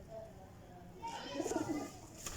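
Faint, soft pigeon coos sound briefly near the middle, low and muffled, with quiet background noise and some human voice around.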